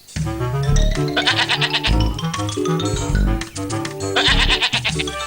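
Sheep bleat loudly and repeatedly in a cartoon, wavering cries overlapping one another close by with no pauses.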